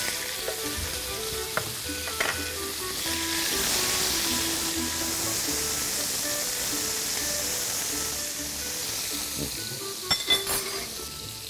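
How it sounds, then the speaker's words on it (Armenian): Chicken breast frying in hot oil in a pan, a steady broad sizzle that swells and holds for several seconds, with a few light clinks of utensils near the end and no one talking. "հավի կրծքամիսը կտապակենք"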